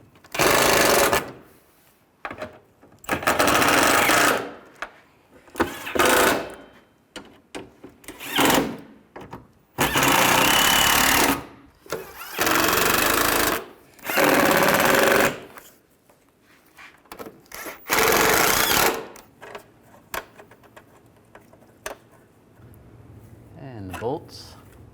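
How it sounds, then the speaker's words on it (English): A power tool snugs bolts on the front bumper cover of a 1998–2010 Volkswagen Beetle, loud rattling bursts of a few seconds each separated by pauses, clicks and handling noise, with some talk in between. "Now we're going to tighten all these down."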